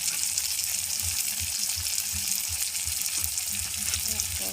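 Salt, turmeric and chilli powder sautéing in a pan, a continuous close sizzle with rhythmic low stirring thumps, no voices.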